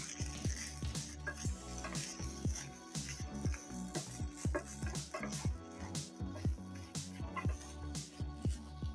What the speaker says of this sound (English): so I'm gonna add my bean sprouts, and then gonna mix this a bit